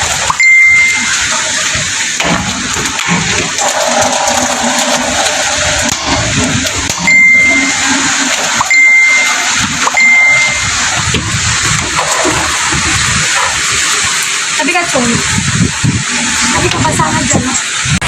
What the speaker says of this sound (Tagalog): Ang lakas ng ulan tsaka hangin ano lakas ng hangin